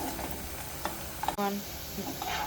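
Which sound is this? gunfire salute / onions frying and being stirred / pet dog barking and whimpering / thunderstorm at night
onions frying and being stirred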